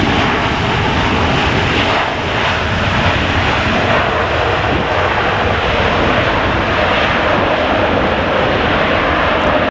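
A fixed-wing airliner roars steadily and loudly overhead at Los Angeles International Airport, a continuous broadband engine rush filling the whole stretch with no voices.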